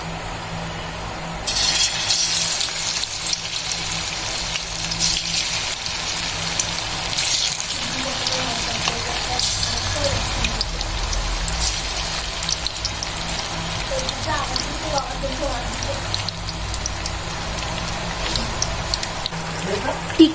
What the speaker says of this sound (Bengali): চিকেন টিক্কা ভাজার জন্য এখানে আমি বেশ কিছুটা তেল নিয়ে নিয়েছি ডিপ ফ্রাইয়ের জন্য